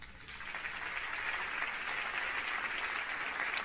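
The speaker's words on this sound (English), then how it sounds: "Big claps" An audience at a recorded performance of the musical Sunday in the Park with George claps in a dense, sustained round of applause that holds steady throughout without a break.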